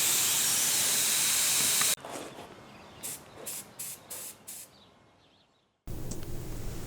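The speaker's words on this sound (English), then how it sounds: "Now I'm just trying to play around with this gun to figure out the best little spray pattern" Central Pneumatic mini detail spray gun from Harbor Freight, item 92126, spraying: a loud continuous airy hiss, then a string of five or six short spurts, then the steady hiss again.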